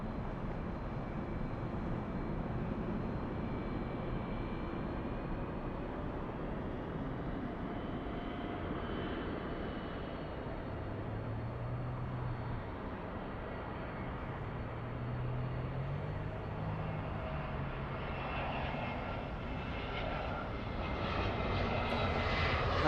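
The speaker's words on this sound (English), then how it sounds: "runway 24 left, clear for takeoff" Jet airliner taking off from runway 24 left at LAX in the evening, a steady loud engine roar sustained throughout and swelling slightly toward the end, with no talk.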